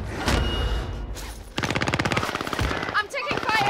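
Rapid automatic gunfire in Call of Duty Warzone on the Fortune's Keep map, sustained bursts of close shots with brief gaps and a voice calling out between them.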